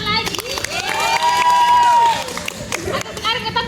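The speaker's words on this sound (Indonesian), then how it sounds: "tepuk tangan lagi." Group 1 at a psychology campus outbound training session gets a round of applause, with clapping and cheering mixed with excited voices and shouts for a few seconds.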